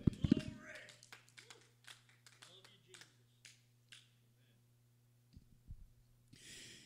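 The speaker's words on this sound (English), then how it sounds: "Give the Lord a hand clap of praise if you love him" A church congregation gives scattered hand claps of praise, a handful of sharp, irregular claps over a low steady hum in a quiet room.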